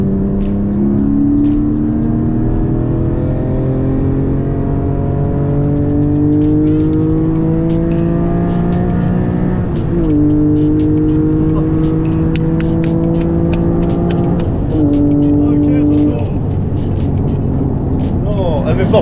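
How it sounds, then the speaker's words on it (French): A 2023 Porsche GT4 with a 4-litre flat-six and valved exhaust drones loudly and close, its pitch rising and falling as revs change and briefly dipping between shifts, while a voice talks over the engine. "on est avec un échappement qui est vraiment très sympa et avec des valves bien sûr qui s'ouvrent et qui se referment"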